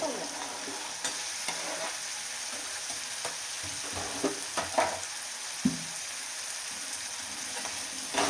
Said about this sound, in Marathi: तर कांदा आहे आपला छान तळला झाला.